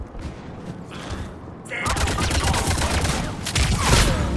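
Gunshots in the Mass Effect 3 multiplayer game: a quieter stretch gives way to dense rapid fire that keeps up for over two seconds, close and loud.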